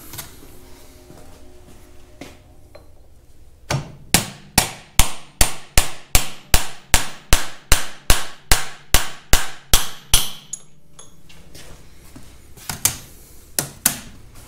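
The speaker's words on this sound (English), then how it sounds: "I want to only tap on the inner race because that is the direction that these are meant to thrust" A driver tapped against a bearing's inner race while assembling Caterpillar D2 steering clutch packs: a fast, even run of about eighteen sharp metallic hammer strikes, a pause, then a few more taps near the end, close and loud.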